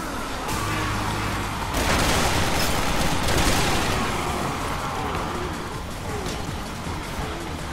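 A loud explosion in the video game Resident Evil 6, a dense burst of blast and gunfire-like crackle that swells around the two-second mark and rumbles on steadily for several seconds with no break.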